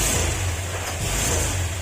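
A Honda Click 125 V3 scooter with a fuel pump problem hums at a low, uneven idle with a slight lagging rise in revs, close and steady throughout.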